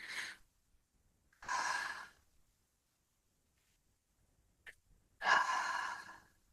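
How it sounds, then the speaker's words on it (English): Slow, deliberate breathing during a gentle standing and seated exercise routine: four separate breaths are heard up close and fairly quiet, with long silent gaps between them. "breath out, breath in, breath out, breath in, breath out"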